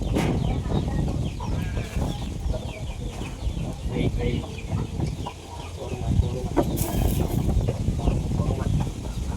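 A rooster and chickens cluck and squawk amid a noisy outdoor farm scene, with people talking over a steady background din.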